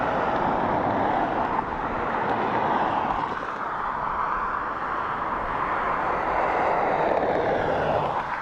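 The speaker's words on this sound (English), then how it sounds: "this is our Neo in from Heathrow in London" Arriving from Heathrow, an Airbus A320neo jet is heard at Dublin Airport as a broad, moderately loud engine rush that holds steady, swelling slightly toward the end, heard at some distance with no voices.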